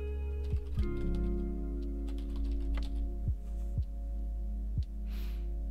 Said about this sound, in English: And let's type in LibreOffice here.